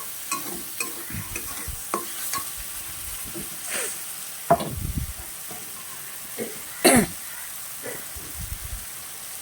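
A spatula stirs potatoes frying in a pan for a vegetarian aloo dum, producing repeated scraping and clanking strokes over a soft sizzling hiss, with a few louder knocks spaced irregularly.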